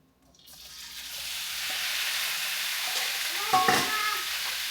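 Beef hitting a hot pan on high heat for beef with mushroom, a sizzle that swells from silence into a steady loud hiss with a few stirring clatters partway through, no talk.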